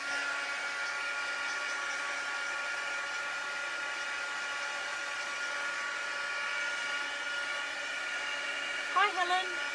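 A hair dryer blows steadily to dry an art journal page, a constant close whir that runs alone for nearly ten seconds before a brief voice breaks in at the end.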